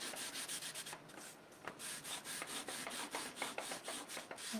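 Stone paste is rubbed by hand onto an artwork surface, a close, quiet, dry scratchy rubbing in quick repeated strokes with no talk.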